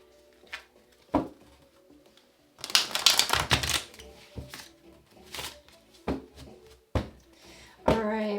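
Quick riffling and slapping of a deck of cards in short bursts, with a longer shuffle in the middle, close up and fairly loud.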